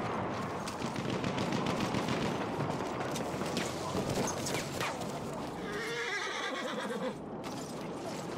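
Enemy machine gun fire in the war game Frontlines: rapid bursts of automatic gunfire mixed with other battle noise, including horse whinnies and clip-clopping hooves, at moderate loudness.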